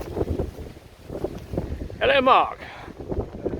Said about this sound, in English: This could be really windy. I'll try and keep you out of the wind.